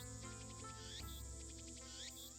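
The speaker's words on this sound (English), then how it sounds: "I can hear the chirping of cicadas from the few trees growing here." Cicadas chirp from a few trees at a shrine in the Steins;Gate video game, a faint, steady insect buzz running under tonal background sound.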